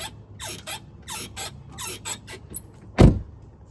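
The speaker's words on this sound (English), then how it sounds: "I've never heard a bird sound like this before." An unfamiliar bird calls at an outdoor Civil War battlefield near a wood line, a series of repeated bright chirping phrases with one short louder burst near the end, heard fairly close with no talk.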